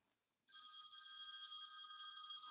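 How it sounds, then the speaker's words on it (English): A phone rings with a steady electronic tone that starts abruptly after a short silence and continues unbroken, clear and fairly close, with no talking. "I'm sorry, I gotta turn this phone off."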